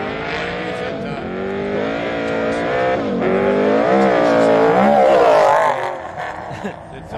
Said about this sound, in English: Brett Kaminsky on the start line now, 434. The ex-Toby Price Mitsubishi.